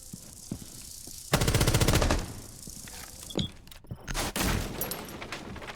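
Automatic R4C rifle fire in a first-person shooter video game: a sustained burst of rapid shots followed by scattered later bursts and impacts, loud and close.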